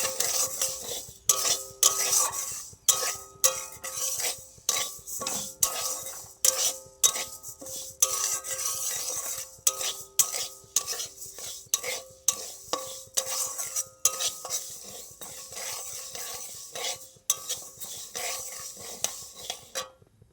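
Mung dal lentils being dry-fried and stirred in a pan on a home stove, with a steady run of scraping, clinking stir strokes against the metal and a faint sizzle underneath, close and fairly loud throughout.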